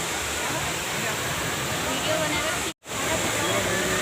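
A waterfall roars as a steady, dense broadband rush throughout, with a brief dropout near the end, at an outing spot where visitors are taking photos.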